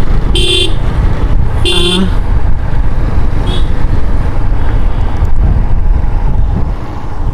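An Apache 160 4V motorcycle is ridden mostly in fifth gear. It gives a steady loud rush of engine and wind noise, with two short horn toots from passing traffic near the start.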